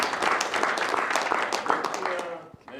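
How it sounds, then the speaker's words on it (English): Audience clapping at a men's empowerment conference, a dense, steady burst of applause that fills nearly three seconds before tapering off at the end. "Let's clap it up for that."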